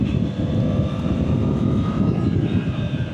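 Triumph Tiger 900 GT Pro motorcycle engine droning steadily while riding out of a racetrack, a rough low rumble with wind rush, continuous and fairly close, no talk.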